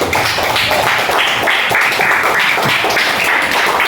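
Students in a classroom clap together for a classmate, a loud, close burst of hand claps that falls into a repeated rhythmic pattern.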